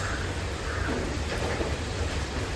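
Steady, dense rain pours down in a heavy downpour, a continuous hiss and rumble with no pauses and no voices.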